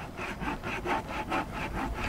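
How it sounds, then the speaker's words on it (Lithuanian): Wood, such as pallet boards, is cut with a handsaw outdoors, about eight rhythmic rasping strokes back and forth at an even pace, fairly close and moderately quiet, with no speech. "Pjauna žmogus ir pjauna"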